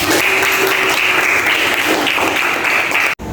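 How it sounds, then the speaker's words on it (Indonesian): Students in a classroom applaud together, a dense, steady wash of clapping that fills the whole stretch and cuts out abruptly near the end. "Beri tepuk tangan."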